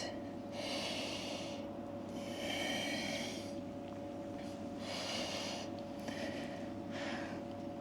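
Several long, breathy exhales during a power yoga session for athletes, repeating in slow waves over a steady low hum, fairly close and without talk.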